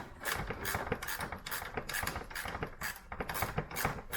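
A ratchet fitted with a 10mm socket undoes a bolt on the front grille area of a new Land Rover Defender, giving a steady run of close, rapid clicking.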